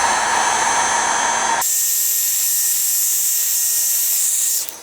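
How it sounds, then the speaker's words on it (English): A heat gun shrinks tubing over wiring while LED lights and a grille are fitted to a 2020 Toyota Tacoma. It gives a loud, steady blowing whir on its own, shifts in tone partway through, then cuts off at the end. "get a heat gun and heat shrink it"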